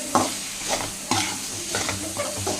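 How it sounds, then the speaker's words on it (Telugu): Vegetable fried rice with salt being stirred in a pan, a spatula scraping and tossing in several distinct strokes over a light sizzle, close and fairly loud with no voices. "ఇప్పుడైతే దీన్ని అయితే బాగా కలిపెట్టుకుందాం."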